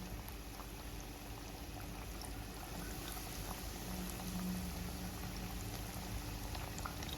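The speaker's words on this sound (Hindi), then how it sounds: "स्लो फ्लेम में ही हमें इसे फ्राई करना है, क्योंकि चिकन हमारा अच्छे से अंदर से पकना चाहिए।" Coated chicken strips fry gently in oil over a slow flame, giving a steady, soft bubbling and crackle that runs evenly throughout with no one talking.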